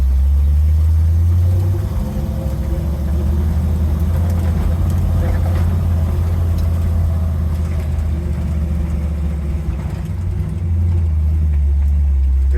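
A Ford Early Bronco is driven off-road and used as a skidder, its engine droning loud and close with a steady low rumble, the pitch and tone shifting near the start and again near the end as gears change.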